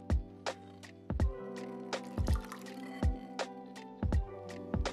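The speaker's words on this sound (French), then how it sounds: "On verse le lait caillé dans le moule." Curdled soy milk for homemade tofu is poured into a mould in a series of wet plops and drips, about five soft splashes spaced roughly a second apart, close and quiet.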